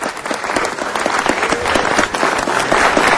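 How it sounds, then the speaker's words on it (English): An audience at a city council meeting applauds with steady, dense clapping that fills the room throughout. "Let's give him a round of applause, everybody."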